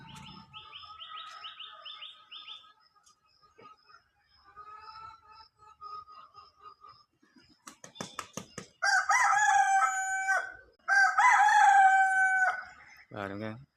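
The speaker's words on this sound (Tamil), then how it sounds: "மேலே ஷெட்டு மேலே கோழி இப்போ தான் எந்திரிச்சு குதிச்சுக்கிட்டு இருக்குது." Chickens stirring awake on a shed roof after roosting in a tree, with a rooster crowing loudly in the latter half in two long calls, following softer clucks and wing flutters at close range.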